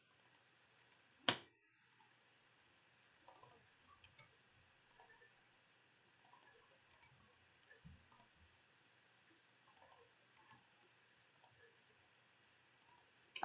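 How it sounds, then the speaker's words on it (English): Computer keyboard shortcut keys clicked one after another, sparse light taps spread across the stretch with one sharper knock early on, quiet and close in a silent room. "I'm just going to go down the line and click Control Tab and do a new album for every tab"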